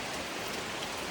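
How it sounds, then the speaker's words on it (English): Steady rain falling outdoors in Hawaii, a dense, even hiss of drops with no voices. "I'm gonna wait here until the rain stops."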